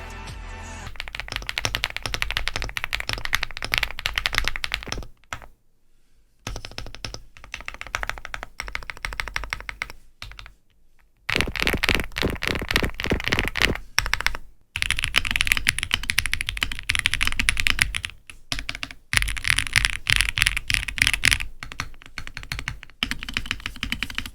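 Fast typing on an Epomaker Galaxy100 full-size mechanical keyboard and a custom mechanical keyboard, dense close-up key clacks in bursts separated by short silent pauses, with no talking.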